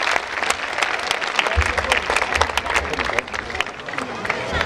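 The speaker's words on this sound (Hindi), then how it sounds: "एक बार जोरदार तालियां।" Audience applause at a live Braj Hori cultural performance: dense, steady clapping from a large crowd with a murmur of voices and a low rumble underneath, sustained throughout.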